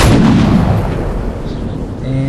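A deep, bass-heavy gunshot effect with boosted mids, edited in Sony Vegas Pro 11, sounds as one loud sustained boom that decays slowly over about two seconds, heard alone.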